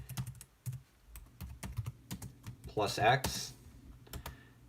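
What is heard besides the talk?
typing a terminal command on a computer keyboard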